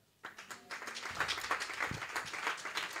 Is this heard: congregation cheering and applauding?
yes